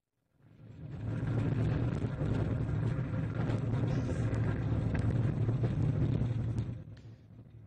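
An Ariane rocket igniting and lifting off with an Azerspace-1 satellite: a deep, broad roar that swells within a second, holds loud and rumbling for about six seconds, then fades quickly, with no talking.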